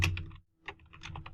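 Fingers tap quick, faint clicks on a computer keyboard in two short bursts split by a brief pause, close up with no voices.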